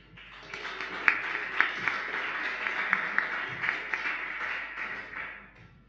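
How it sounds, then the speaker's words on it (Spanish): Scattered applause rises from a morning audience at a Chilean panel discussion as panelists arrive, a modest patter of claps with a few sharper near hand strikes, fading out at the end. "los recibimos con un fuerte aplauso, por favor"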